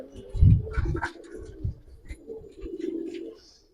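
Silver-coloured Giribaz pigeons coo in low, throaty rolling calls, a few close phrases up front then softer repeated cooing with light rustling.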